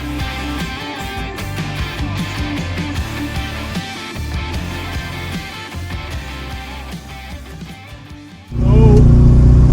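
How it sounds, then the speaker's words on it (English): Interior engine noise of a classic Mini driving up a high-banked, narrow road, a droning, revving engine with shifting pitch as it pulls through gears, loud and close, surging sharply louder near the end, with a brief voice. "allow you to experience the in-car noise whilst driving up a high banked, narrow road"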